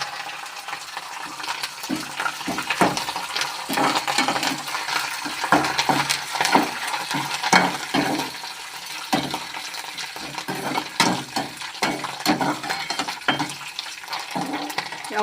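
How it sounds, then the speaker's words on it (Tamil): Dried red chilies and curry leaves frying in hot oil for lemon rice, a steady crackling sizzle with scattered sharp pops and stirring clinks throughout, close and fairly loud with no talk. "எண்ணெய் வந்து நிறைய காஞ்சிச்சு, அதனால் டக்கு டக்குன்னு எல்லாமே போட போட அப்படியே சேர்ந்துச்சு"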